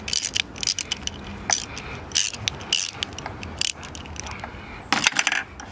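A socket ratchet loosens a 10mm bolt on the throttle body intake boot of a car engine, giving rapid, close clicking pawl bursts in repeated strokes over a steady background of engine-bay noise. No talking.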